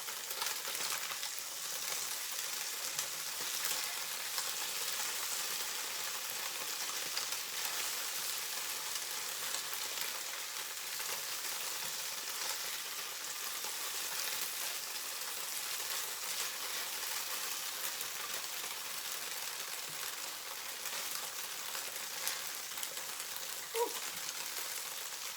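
Food frying in a single pan on a propane stove in a tiny house, a steady, even sizzle with faint crackle running continuously at low level, no talking.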